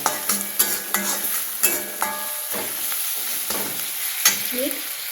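Egg bhurji with turmeric is stirred in a hot pan with a spoon, giving repeated scraping strokes over a steady sizzle and a few light clinks of utensil on metal, close and clear with no talking.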